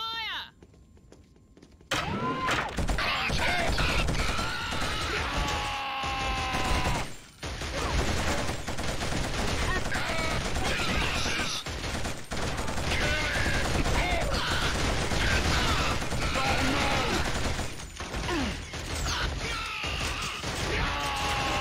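Sustained bursts of automatic gunfire in the Killzone shooter, loud and dense across most of the stretch, with overlapping shots, crow-like calls and battle noise, a brief lull near the middle, and voices shouting under the fire.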